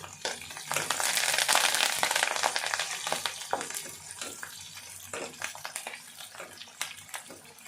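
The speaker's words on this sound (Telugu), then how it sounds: "ఉల్లిపాయ, కరివేపాకు అండ్ పచ్చిమిర్చి 3 వేసి వేగనిద్దాం" Onion, curry leaves and green chillies fry in hot oil with a loud, dense sizzle and crackle that peaks early, then settles lower with occasional stirring scrapes and pops; no voices.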